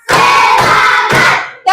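A fourth-grade class in an Islamic studies lesson claps together in a rhythmic clap game, loud, close bursts of group clapping in a few sections with a short gap before a final burst where a voice joins in.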